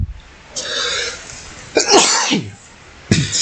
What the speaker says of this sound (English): I'm always coughing and stuff.